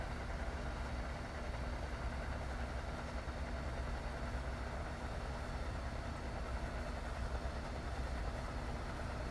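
An American passenger train in Train Sim World 4 on the Boston Sprinter line, with a steady low rumble and rolling rail noise held at an even level throughout, no voices over it.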